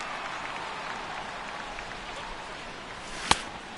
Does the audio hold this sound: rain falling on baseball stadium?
yes